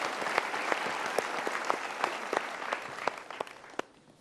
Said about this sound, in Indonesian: Kita berikan tepuk tangan untuk jawaban.